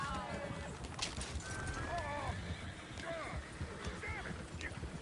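Horses whinny and hooves clip-clop in Red Dead Redemption 2, with several neighs and steady hoof falls close by, mixed with ambient game sounds under spoken dialogue.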